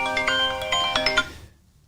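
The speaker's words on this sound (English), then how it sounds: "To get a phone call." A phone ringtone from an incoming call chimes in a short melodic burst of bright electronic tones, fairly close and clear, then cuts off into silence after about a second and a half.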